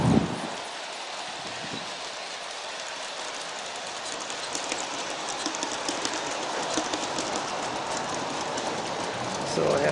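An Aristo-Craft model train pulling a heavy string of reefer cars with a Mallet helper locomotive rolls along the track, giving a steady rumble and faint clickety-clack at moderate distance, with a voice briefly audible.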